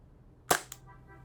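A WE Galaxy gas blowback airsoft pistol fires one sharp, loud crack, followed a moment later by a fainter second pop, close by in an otherwise quiet room.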